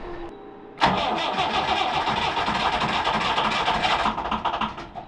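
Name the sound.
narrowboat engine starting in freezing conditions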